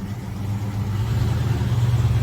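An older pickup truck's engine runs steadily while backing up in reverse, giving a close, low, throbbing rumble that swells slightly toward the end, with no voices over it.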